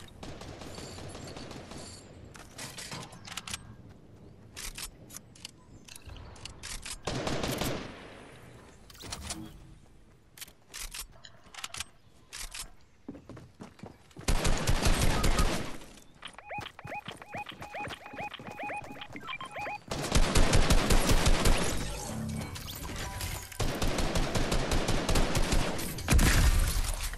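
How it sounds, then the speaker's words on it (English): Shotgun gunfire in a video game, bursts of loud blasts in clusters, heavy firing around the middle and in the last seconds, with quieter gaps between. "That's my shotgun."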